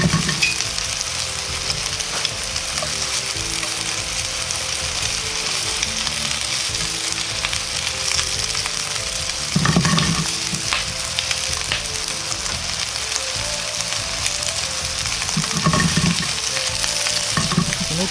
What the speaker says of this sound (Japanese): 焦げ付かないようにフライパンの底をたまに揺するようにして炒めます。